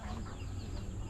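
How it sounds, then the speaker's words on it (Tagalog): Pet chickens cluck quietly nearby in low, uneven bursts over a faint background murmur, with no clear speech. "may mga alaga siyang manok"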